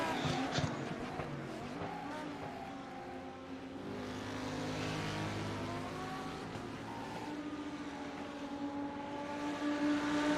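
GT3 race cars in a video game at Summit Point whine and drone continuously, with shifting pitch as cars pass, a steady layered motor roar throughout.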